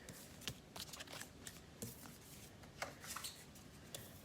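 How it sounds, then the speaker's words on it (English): A deck of tarot cards is shuffled by hand in soft, irregular bursts of riffling and sliding, quiet and close with no talking. "Let me just shuffle"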